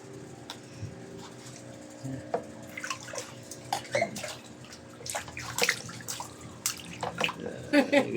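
Child being bathed in a plastic basin, with water splashing and dripping in irregular bursts that grow busier toward the end, close by, while people talk and laugh throughout.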